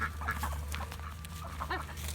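Ducks quacking on a farm, several calls scattered across a couple of seconds at moderate distance, over a steady low rumble with a light rainy ambience.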